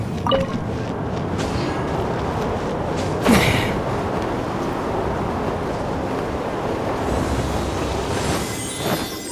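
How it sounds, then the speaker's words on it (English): A wind current in the Genshin Impact video game gives a steady whooshing rush of air with a brief swell partway through, continuous and fairly loud. "Let's ride this wind current, shall we?"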